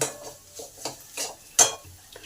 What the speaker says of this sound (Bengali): এবার এটাকেও একটু নেড়ে দিলাম